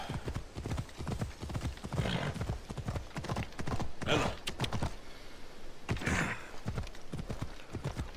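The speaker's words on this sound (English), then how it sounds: "Horses on this game, they don't behave realistically." Horse hooves clip-clop in a steady, quick rhythm in the video game Assassin's Creed Odyssey, close and continuous, with a couple of brief louder swells and occasional snorts mixed in.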